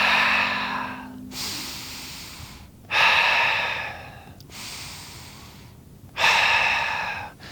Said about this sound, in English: And right now I could breathe through my nose